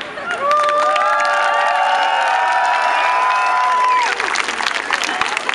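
A large crowd at a march in embroidered shirts in Kyiv cheers and applauds loudly and steadily, with sustained whoops and high shouts ringing over the dense clapping throughout.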